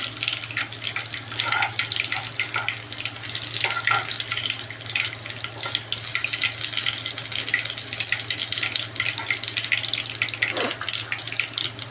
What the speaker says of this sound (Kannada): ಸಣ್ಣದಾಗಿ ಕಟ್ ಮಾಡ್ಕೊಂಡಿರುವ ಬೆಳ್ಳುಳ್ಳಿ. ಇದು ಚಟಪಟ ಅಂತ ಸಿಡ್ತಾ ಇದೆ ನೋಡಿ